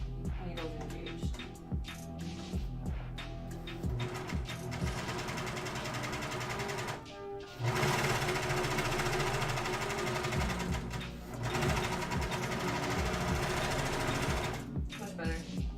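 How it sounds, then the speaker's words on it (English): A two-needle sewing machine stitches a sailor shirt in steady, loud bursts of rapid mechanical whirring, pausing briefly between runs of stitching. "Begin the stitch again with both of my needles engaged."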